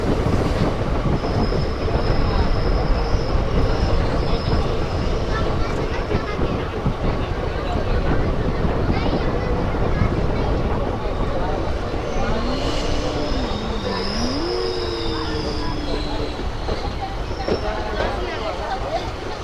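An Intercity Express rolling into a small two-platform railway station, wheels rumbling and clacking steadily close by, with thin metallic squeals of wheels on rail rising later and a faint whine drifting past.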